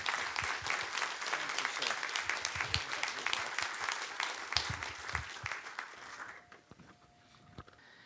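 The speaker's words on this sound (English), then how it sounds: "round of applause" An audience at a conservation talk claps warmly for a speaker in dense, sustained applause that thins out and fades near the end, leaving a few scattered claps.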